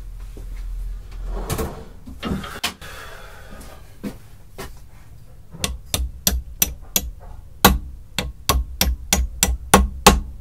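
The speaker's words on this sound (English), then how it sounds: "And hammer that home." Pins are hammered into a very rusty vintage Stanley plane during restoration, with a few scattered knocks giving way to a rapid series of sharp, close metallic taps, loud and steady with no talking.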